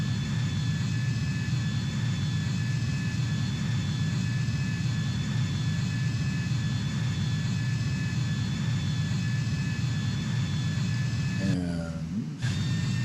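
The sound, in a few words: aircraft engine thrust during climb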